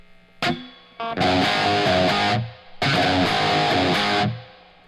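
Distorted electric guitar from a recording with chamber reverb blended in, two loud sustained chord bursts after a few short stabs, each decaying into a lingering tail.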